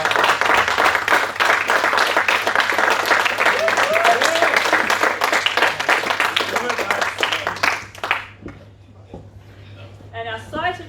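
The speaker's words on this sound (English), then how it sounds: "give Donna a massive round of applause just for the grant" A crowd at a summer series awards presentation gives a loud, sustained round of applause with cheering mixed in, fading out toward the end as a voice begins to speak.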